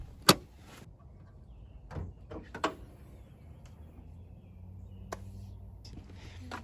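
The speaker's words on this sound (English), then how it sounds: "first step, pop in the hood" Hood release on a Mini Cooper Clubman S: a sharp click and latch pop, followed by a few quieter clunks and taps of the hood and body panels in a quiet garage.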